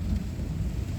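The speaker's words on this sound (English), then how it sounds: "there's a thunderstorm outside like this" Severe thunderstorm outside in Laporte, Indiana, a deep continuous rumble with wind and rain noise, loud and sustained across the moment.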